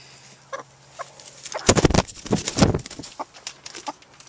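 Broody silkie hens cluck in short, close bursts that build into a louder cluster of agitated clucking before easing back to sparse calls.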